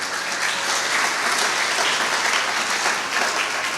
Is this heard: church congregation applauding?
yes